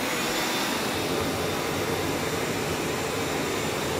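Steady, loud whooshing roar of vacuum cleaner motors driving a flow bench during calibration for ported 1993 LT1 cylinder heads, running continuously and unbroken with no speech.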